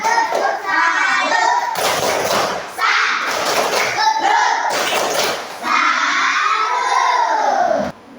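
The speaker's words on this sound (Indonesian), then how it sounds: "Ya, tepuk salut untuk Sapran." A classroom of children does a rhythmic 'tepuk salut' clap, bursts of patterned clapping and thumps alternating with children's voices and a teacher talking between and over the claps.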